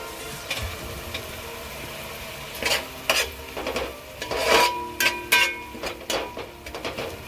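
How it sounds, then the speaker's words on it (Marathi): Masala paste being stirred and fried in oil for dhaba-style methi malai paneer, with repeated scraping and rasping strokes of a spoon against the pan over a soft, steady sizzle. "आणि हे चांगल्या प्रकारे हलवत राहायचं, मिक्स करत राहायचं आहे, की जेणेकरून ते खाली लागणार नाही."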